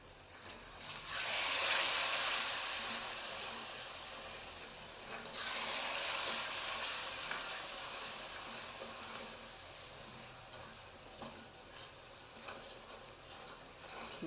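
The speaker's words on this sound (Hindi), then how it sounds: "हल्का सा पानी का छींटा भी लगाएंगे साथ में।" Spices such as crushed coriander and turmeric frying in a pan for a radish and spinach dish, splashed with water, giving a loud burst of sizzling hiss that slowly settles into steady frying, with a second surge midway, no voices.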